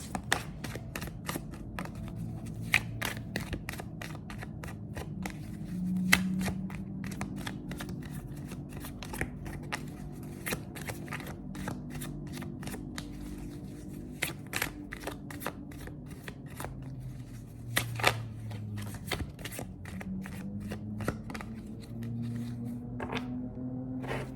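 Oracle cards handled and shuffled by hand, a long run of crisp riffling and flicking snaps at an uneven rhythm, close and clear, with a quiet voice murmuring occasionally underneath.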